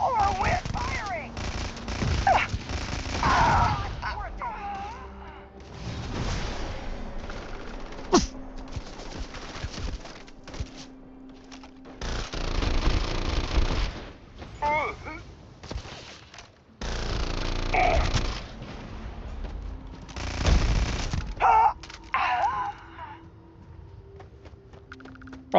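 Video game gunfire comes in bursts of rapid clattering shots separated by quieter gaps, with a voice talking over parts of it.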